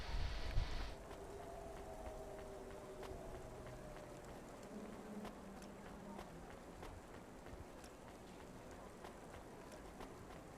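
Steady rain pattering in the rainy city of the game Cloudpunk, with light footsteps, distant traffic and faint tonal hums running under the continuous wash of droplets.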